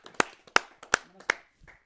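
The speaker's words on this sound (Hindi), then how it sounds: "आइए जोरदार तालियों से उनका स्वागत करते हैं।" A handful of sharp, close handclaps welcoming a poet at a Hindi kavi sammelan, about five irregularly spaced claps with quiet gaps between them.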